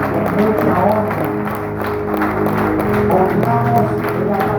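A church congregation applauds together as an offering of praise to the Lord, steady sustained clapping across the whole stretch blended with music and crowd noise.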